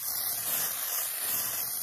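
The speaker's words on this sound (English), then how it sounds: "we're gonna spray this side again" A cosmetic setting spray is misted onto the side of the face, giving one continuous soft hiss that holds steady for about two seconds, close and fairly quiet, with no voices.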